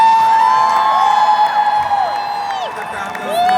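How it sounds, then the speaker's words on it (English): An audience at a drag performers' comedy panel cheers, whoops and claps loudly and continuously, with overlapping high shouts throughout. "The crowd goes wild."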